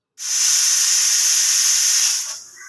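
Pressure cooker cooking white cowpeas lets off a loud, steady jet of hissing steam that starts abruptly, holds for about two seconds, then tapers away.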